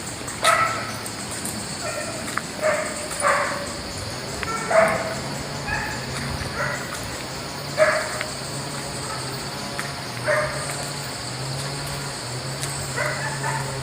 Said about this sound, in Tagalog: Tapos may nakatali na aso.